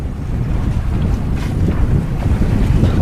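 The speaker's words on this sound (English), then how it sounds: "Right now, I'm sailing SV Orion down to South Florida, Clearwater to be exact." Sailboat SV Orion under sail bound for Clearwater, South Florida, with steady loud wind rushing across the microphone and water washing along the hull, continuous and close, no voices.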